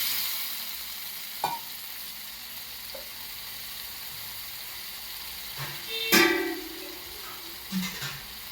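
A dal tempering with red chilli powder fries quietly in a pan, a soft steady sizzle broken by a few scattered spoon knocks and one louder scrape-and-clatter midway, close, no speech.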